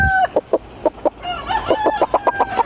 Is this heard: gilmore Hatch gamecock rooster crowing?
yes